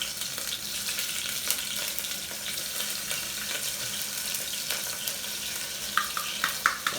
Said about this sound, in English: Add my green peppers.